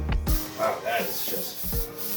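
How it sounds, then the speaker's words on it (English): Sandpaper on a block rubs over a car hood with dents and peeling clear coat, on a widebody WRX wagon race car; several close, scratchy back-and-forth strokes with brief pauses between them. "take some sandpaper and a block and just kind of go over these areas a little bit"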